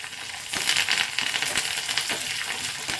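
Crushed garlic frying in ghee in a pan: a bright, crackling sizzle with scattered pops over about three seconds, close and moderately loud, no voices.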